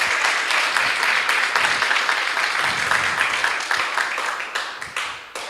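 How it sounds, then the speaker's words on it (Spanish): A church congregation claps together for a few seconds at a spiritual warfare sermon, a dense burst of many hands that loosens into scattered, distinct claps as it fades out. "Denle un aplauso."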